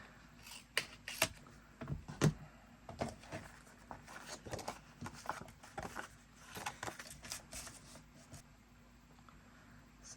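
Paper is trimmed for a DIY travel journal, with a series of close, crisp scissor snips and rustling paper handling in an irregular rhythm, quiet overall.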